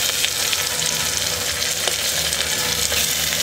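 Chicken goes into a pan of spices with turmeric and salt, raising a steady, loud, close oil sizzle with faint stirring scrapes throughout.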